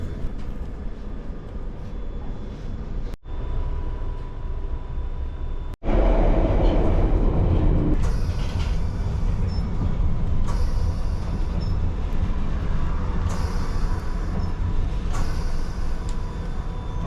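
A London Underground Piccadilly Line train runs in a continuous loud rumble, with two brief dropouts early on, then a louder, brighter stretch of wheel and motor noise with high whines as it travels along.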